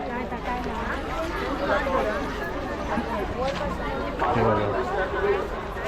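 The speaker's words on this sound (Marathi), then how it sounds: "गर्दी व्हायला लागली आता" Crowd chatter fills the Anganewadi fair among toy and stall shops, a dense, continuous babble of many voices close around, with nearby talk standing out over the hubbub.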